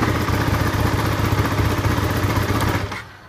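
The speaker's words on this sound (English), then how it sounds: "quite a lot of noise from the engine" A Ducati 1299 Superleggera sport motorcycle engine runs close by with its exhaust pipes off, giving a loud, rapid, clattering pulse that holds steady and then fades out at the end.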